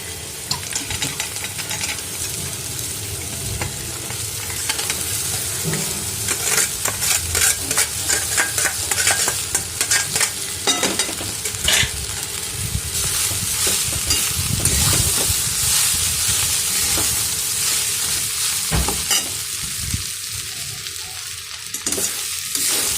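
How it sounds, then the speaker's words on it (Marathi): Poha gets stirred and mixed in a frying pan, a spatula scraping and tossing in repeated strokes over a continuous close sizzle, with no talking. "आता आपण पोहे मिक्स करून घेऊ"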